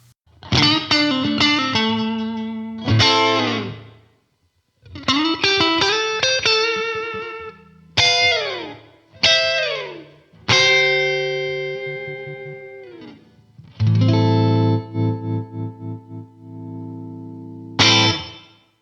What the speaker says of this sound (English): So this sounds like a really nice, subtle reverb.